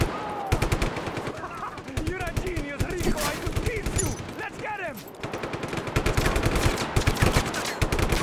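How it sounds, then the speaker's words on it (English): Rapid bursts of machine gun fire rattle almost nonstop in the video game Just Cause 3, loud and close, with excited voices shouting over the shooting. "Yeah, machine gun fire!"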